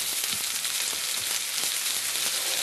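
Peppers and other vegetables sautéing in a pan for a pepper and shrimp pie, a steady, dense sizzle and crackle filling the whole moment with no talk.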